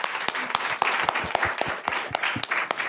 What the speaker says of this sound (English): let's have a round of applause for Emily